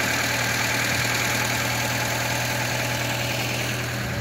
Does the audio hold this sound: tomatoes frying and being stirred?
no